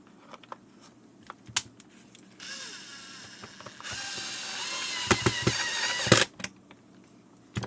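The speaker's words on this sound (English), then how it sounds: "We will put back the screws." Screws driven back into a Bissell Model 22889 cordless vacuum, scattered small clicks and handling knocks, then a few seconds of continuous whirring from a power screwdriver, close and loud, ending abruptly before more faint clicks.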